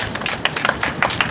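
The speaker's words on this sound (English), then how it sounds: "Let's give him a round of applause as he comes." Brief burst of audience applause at a Macon County, Alabama commission meeting in Tuskegee, a quick cluster of sharp hand claps from a modest crowd, fairly close.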